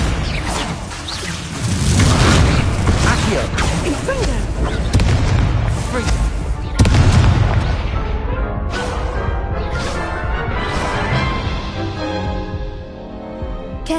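Confringo and Incendio spell blasts from the Hogwarts Legacy video game, loud booming explosive bursts and whooshes layered densely over continuous game music and effects, with a voice speaking between blasts.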